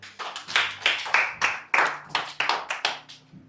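A church congregation claps together in a steady, rhythmic beat to acclaim the Lord, roughly three claps per second, with a low murmur of voices or instruments beneath the close, sharp hand strikes.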